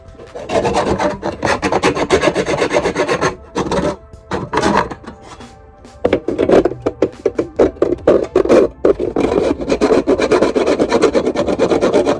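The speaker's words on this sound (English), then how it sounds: "I'm gonna file these down and get them drilled in" Rough edges of cover plates for a bus being filed down by hand: loud, close, rhythmic rasping strokes in quick runs, with a couple of brief pauses between bursts.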